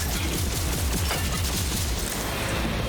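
Continuous gunfire from a weapon in the game Rage 2, a steady rapid stream of loud shots with a regular pulsing rhythm, close and dense with no pauses.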